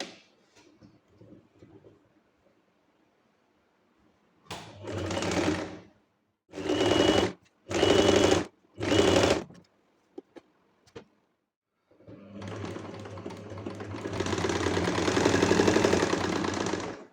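Sewing machine stitching cotton summer casual pants, running in three or four short bursts of rapid stitching, then a longer continuous run near the end, close and loud with quiet pauses between.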